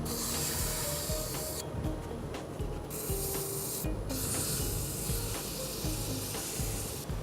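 A turned wooden ball-toss game piece is sanded up to 220 grit while spinning on a wood lathe. The steady, close scratchy rubbing runs nearly unbroken, with brief shifts in texture as the sandpaper moves.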